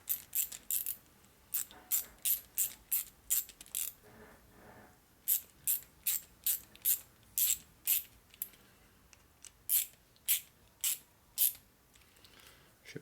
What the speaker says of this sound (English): Tighten the clamp down pretty well.